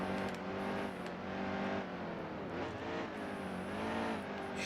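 NASCAR truck engine in the Nascar Heat 2 racing game, a steady loud roar with rising and falling pitch as it brakes through a corner and climbs a hill, continuous throughout with no talk.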